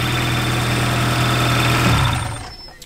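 A modified car engine with an 88 mm CSS block, 12.5:1 WISECO pistons, Manley rods and a SuperTech valve train runs loud and rough, a steady close drone that cuts out near the end as it is shut off.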